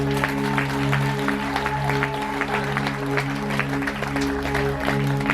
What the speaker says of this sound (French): nous attendons nos gros applaudissements là